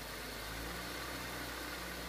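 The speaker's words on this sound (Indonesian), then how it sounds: "Ada suara keker-keker gitu, biasanya dari bearingnya sih." A 2014 Toyota Rush automatic engine idles steadily with a continuous low hum and a faint rattling chatter from a worn bearing running underneath, recorded close to the engine.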